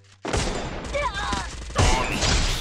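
Gunfire from a Free Fire battle royale match, a loud burst of rapid shots with further shots after a short pause, while a voice talks over it.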